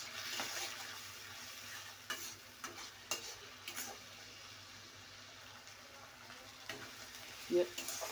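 Shrimp dusted with turmeric frying in oil make a faint steady sizzle with a few soft scrapes and stirring knocks, and one brief sharper clink near the end; no talking.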